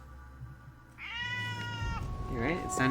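A cat meows twice in close succession, the first cry long and drawn out, the second shorter and wavering, over a low background hum.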